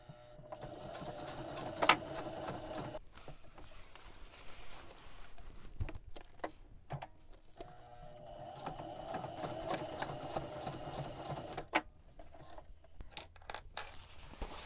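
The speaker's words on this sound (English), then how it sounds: "Now I'm going to start sewing just on the lines that I marked." A sewing machine stitches along marked lines on a cover for an Olympian Wave 3 heater, running in quiet bursts with short pauses, soft clicks and faint handling noises between runs.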